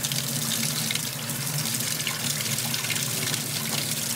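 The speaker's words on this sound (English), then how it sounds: "I always like to give them an extra little rinse out of the container too." Water pours from a container over fish during an aquarium killifish rinse, a loud, close, continuous splashing stream like a filling sink that runs steadily without pause.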